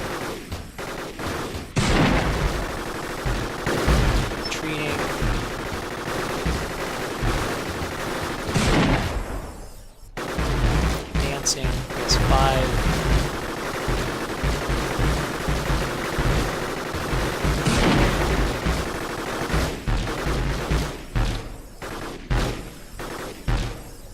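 Robots trade fire in the video game Gladiabots, a dense, continuous rattle of rapid gunfire and thumping impacts that runs loud and steady, with a brief gap partway through before the barrage resumes.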